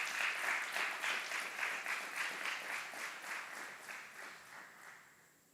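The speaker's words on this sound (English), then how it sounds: "Please join us in giving a round of applause to these outstanding drill sergeant and instructors." Audience applause at an army aviation brigade graduation ceremony at Fort Eustis: a sustained crowd clapping that stays steady, then gradually fades out, moderately distant.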